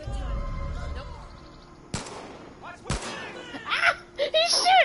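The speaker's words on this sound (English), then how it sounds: "He's shooting me!" Gunfire in the video game Far Cry 5, two sharp loud shots a second apart, with engine-like drone before them and excited voices talking after.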